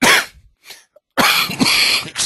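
A lingering cough that persists after a course of antibiotics: one harsh close burst, a short pause with a faint rasp, then a longer, loud fit of several coughs right at the mic.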